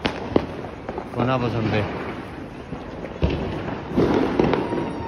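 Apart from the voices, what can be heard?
firecrackers exploding during Diwali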